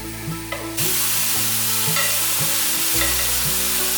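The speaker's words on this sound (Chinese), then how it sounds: "让蘑菇慢慢的煎" Mushrooms dry-fry slowly in a pan, making a continuous, loud hiss and sizzle with faint, regular tonal hums beneath it.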